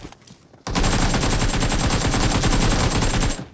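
Rapid automatic gunfire from PUBG Mobile gameplay, a dense burst of shots lasting about three seconds after a quiet start, loud and close with no talk over it.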